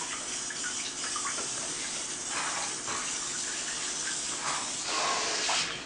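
A Rinse Ace baby bath rinser sprayer sprays water steadily at close range, a continuous hissing rush of water running for several seconds with slight swells in force.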